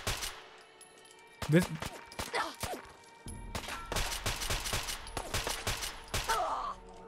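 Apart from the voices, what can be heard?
gunfire from the player's gun in the video game Fallout 4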